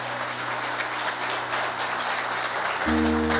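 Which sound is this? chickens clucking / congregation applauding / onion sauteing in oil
congregation applauding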